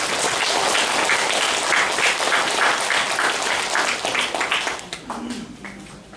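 A church congregation applauds during a Sunday worship service, a dense wash of clapping from many hands that holds steady before thinning out and fading near the end.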